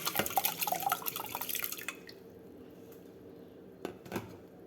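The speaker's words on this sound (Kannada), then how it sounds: "ಈ ಊದಲಕ್ಕಿನ ನೆನೆಸಿರೋ ನೀರು ಜೊತೆನೇ ಪ್ರೆಷರ್ ಕುಕ್ಕರ್ಗೆ ಟ್ರಾನ್ಸ್ಫರ್ ಮಾಡ್ಕೊಳ್ತಾ ಇದ್ದೀನಿ" Soaked barnyard millet and its soaking water are tipped into a pressure cooker, making a close, splashy pour for about two seconds that stops abruptly, followed by quiet and a couple of light knocks.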